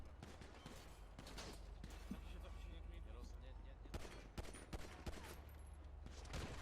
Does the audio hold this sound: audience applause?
no